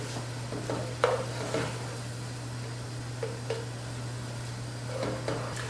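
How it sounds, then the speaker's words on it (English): Chicken paprika sauce with wine bubbling in a pan as the liquid cooks down, a steady low simmer and sizzle with occasional soft clinks and scrapes of a utensil against the pan, close and moderately quiet. "Let that come to a boil and let the liquid evaporate a bit, almost completely."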